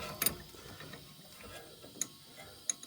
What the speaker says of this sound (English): now I'm going to take my 11mm